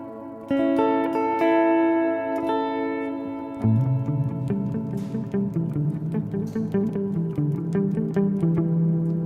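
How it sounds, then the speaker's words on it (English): Clean electric guitar notes and chords are fed through a delay into a reverb, creating shimmering, overlapping echoes that wash into a sustained, spacious tail. "that's a delay being sent to the reverb"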